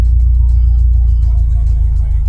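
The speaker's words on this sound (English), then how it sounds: "there is another car. We're gonna let this guy go ahead and pass." Another car on the road passes a 2018 Subaru WRX STI, heard from inside as a heavy, steady low engine and road rumble, loud and constant, with a faint swell of the passing vehicle and no talk.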